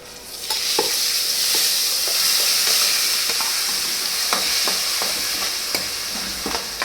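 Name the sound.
cumin and asafoetida tempering sizzling in hot oil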